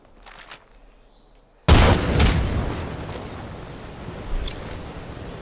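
A grenade detonates in the zombie survival game State of Decay 2, a sudden loud boom that cuts in after quiet, faint game sounds and rolls into a long, rumbling decay with a smaller burst trailing near the end.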